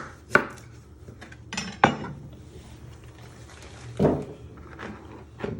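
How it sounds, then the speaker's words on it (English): Knife cutting the ends off a parsnip on a board, three or four separate sharp chops spaced a second or two apart, close with quiet gaps between. "You first chop your ends off with your knife"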